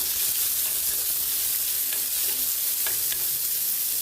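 Onions with mustard seeds and fennel sauté in hot oil, making an even, close sizzle with light crackles and a few soft stirring scrapes throughout, and no voices.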